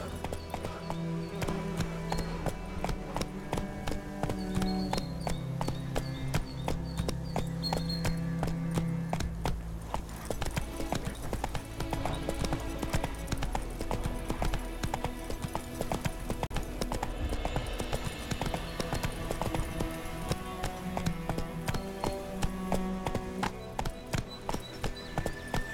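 Horse hooves clip-clop at a steady rhythmic trot in The Witcher 3, out in the White Orchard countryside, loud and continuous over a layer of music.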